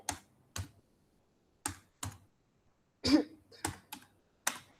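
Keystrokes clatter on a computer keyboard during terminal work, arriving as about eight sharp, close clicks in uneven bursts with pauses between them and no talking.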